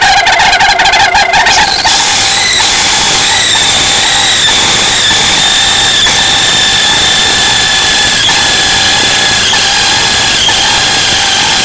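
A Kia car engine revs up briefly and then settles into a loud, sustained high-pitched alternator whine and drone that holds steady without a break.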